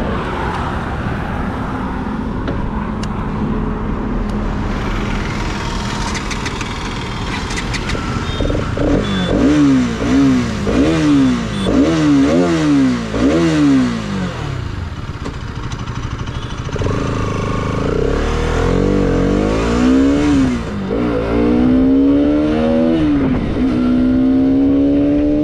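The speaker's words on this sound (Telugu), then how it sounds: "ఇక ఈ బైక్ని మనం ఇప్పుడు GoPro వ్యూతో రైడ్ చేద్దాం." A 2025 Bajaj Pulsar RS 200 motorcycle is ridden from an onboard view, with steady wind and engine drone and repeated revving climbs as it accelerates through gears, loud and close throughout.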